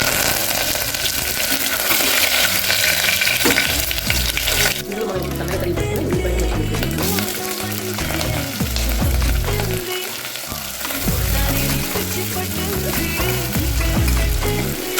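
A tempering of cumin, mustard seeds and dried red chilli fries loudly in oil, a dense continuous crackle and hiss that briefly shifts in texture partway through, without anyone speaking over it.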